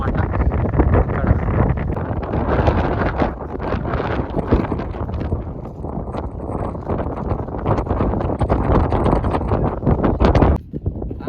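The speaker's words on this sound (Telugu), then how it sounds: "చాలా విండ్ ఉంది, క్రేజీ విండ్ ఉంది ఇక్కడ" Strong, gusty wind buffets the microphone during a road trip stop in Karnataka, a loud continuous roaring rumble with irregular surges throughout.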